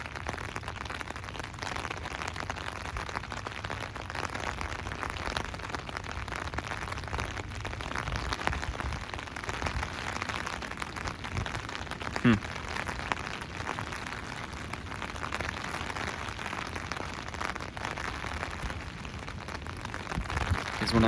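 Steady rain hisses continuously with gusty wind noise throughout, a dense wash of sound with no voices.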